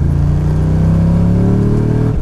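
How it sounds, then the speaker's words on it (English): An LS3 6.2-liter GM crate V8, rated at 525 horsepower and derived from the C6 Corvette, running in a BN Sports RX-7: a loud, close, steady engine drone rich in low harmonics, with pitch shifting slightly near the end and no talk. "This LS3 is a crate engine"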